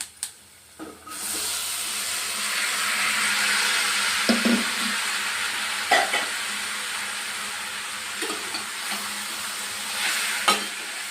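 Legumes being stirred into browned onions frying in a pan for an ivy gourd stir-fry, a steady close sizzle with scraping stirs and a few sharp clinks, no voices.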